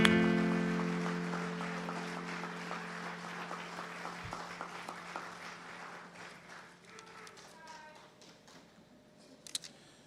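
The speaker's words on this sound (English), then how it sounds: "Big round of applause for our" Audience applause for the grand marshals at an outdoor Memorial Day parade and remembrance ceremony in Dearborn, steady clapping that starts strong, slowly fades over ten seconds, and rises in one brief late burst, with a sustained tone running beneath.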